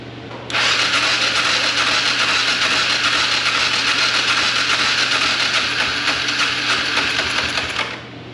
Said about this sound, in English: I definitely heard it attempting to run.